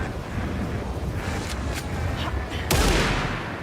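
Sniper gunfire in Alan Wake 2 cracks out amid a windy, noisy backdrop, a few sharp shots with one heavier blast near the end, fairly loud and without talk.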